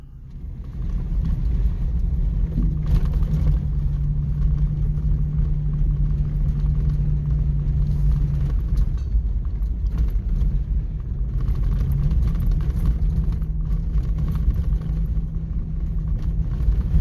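A Nissan Xterra drives on a Texas road, its steady engine and tyre rumble loud and close from inside the cabin, with a droning tone that holds and shifts slightly.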